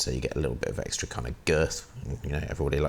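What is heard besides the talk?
No everyday noises stand out.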